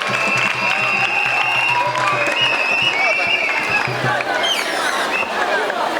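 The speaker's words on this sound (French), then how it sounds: "Un tonnerre d'applaudissements pour notre animateur" Loud, sustained applause from a school audience for the host of a student debate, steady clapping with crowd noise and babble, a low hum underneath and voices mixed in throughout.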